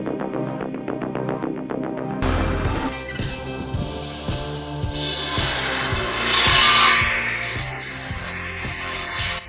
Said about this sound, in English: This homemade log cutter is a strong example of rural ingenuity. The circular saw blade design is a classic choice for high-efficiency firewood production